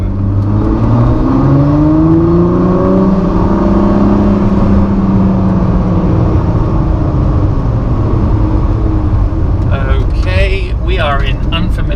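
A yellow Ford GT sports car on a French road trip, its engine revving up and then holding a steady, loud drone while driving, with brief voices near the end.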